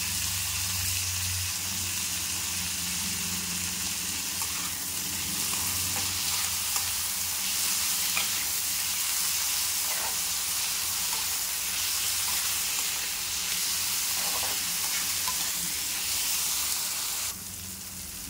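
Chopped tomato fries in a pan with a steady, loud sizzle and hiss, broken by occasional scrapes of stirring, continuous and close throughout.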